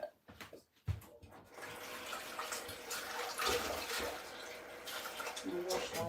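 Potatoes being washed under a kitchen tap, with water running steadily and splashing continuously after a few short clunks at the start.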